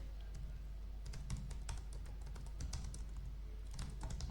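Keys clatter steadily on a computer keyboard as someone types programming code, a quiet run of rapid, uneven clicks with short pauses, close to the microphone and with no talking.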